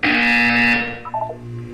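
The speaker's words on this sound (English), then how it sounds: "When you hear the buzzer, look up at the ceiling." Electronic buzzer in the video game Portal 2, a loud harsh tonal blare lasting under a second that cuts off, followed by brief faint blips and low hum.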